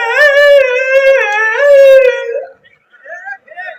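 A voice imitates dogs howling during a sermon: two long, wavering, rising-and-falling howls, loud and close, then a few short, quieter whining sounds.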